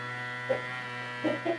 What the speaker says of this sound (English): vacuum seal a can.